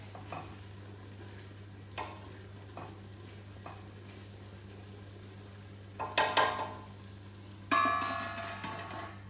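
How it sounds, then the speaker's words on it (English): A spoon stirs chilli in a pot over a low steady hum, with scattered soft scrapes and clinks that grow louder in a few sharp knocks toward the end. "Okay, so keep mixing."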